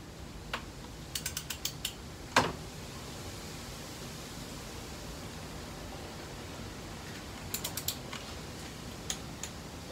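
Torque wrench tightening cylinder head bolts on an LSV engine gives off short bursts of quick metallic ratchet clicks, a sharp louder click near the start and scattered clusters later, over a steady hiss.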